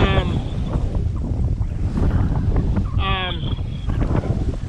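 Wind rushes steadily across the microphone on a sailboat moving under sail near remote islands, with water noise beneath and a few brief tonal whines; no clear talk is heard.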